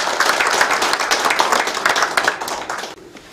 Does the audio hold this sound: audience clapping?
yes